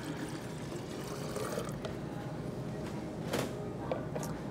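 Cold water is poured into a homemade sports drink mixture, a steady liquid stream splashing and trickling at close range for several seconds, with a few soft knocks.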